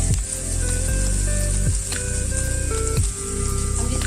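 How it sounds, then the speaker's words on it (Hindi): Capsicum sizzles in a hot pan while being cooked for vegetable Chinese fried rice, a steady crackling fry with occasional scraping stirs, close and continuous. "हम इसमें शिमला मिर्च ऐड करेंगे। शिमला मिर्च को हम थोड़ा सा पकाएंगे।"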